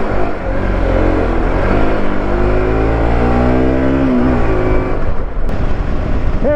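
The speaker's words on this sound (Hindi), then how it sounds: "तो आप सोच रहे होंगे कि मैं मोटरसाइकिल को इतना क्यों भगा रहा था" A Bajaj Pulsar NS motorcycle accelerates hard, its loud, close engine note climbing steadily in pitch through a long pull before easing off near the end, with no talk over it.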